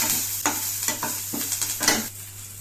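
Tamarind sautéing in a pan gives a steady sizzle, broken by a few scraping strokes of stirring, all close and with no voices.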